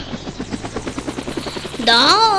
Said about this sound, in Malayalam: ഹെലികോപ്റ്റർ വർത്തി പോണു.